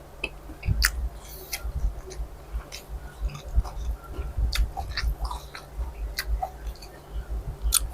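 Someone chewing krachiao flowers, with soft, irregular crunching and squishy bites close to the microphone, quiet and unaccompanied by talk.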